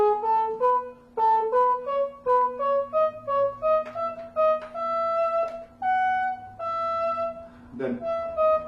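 Soprano saxophone running a stepwise 3-note phrase pattern, a string of clear separate notes climbing in small groups at a steady pace, close and moderately loud with no talking.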